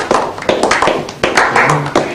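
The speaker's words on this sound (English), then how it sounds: "Please everyone, big round of applause for white blood cell." An audience gives a round of applause at a science fair presentation, with sharp, uneven claps in a few bursts close to the microphone.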